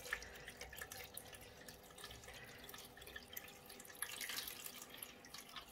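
Fresh water pours steadily from a pitcher into a pet drinking fountain's reservoir, a continuous splashing trickle with small drips, fairly quiet and with no talk.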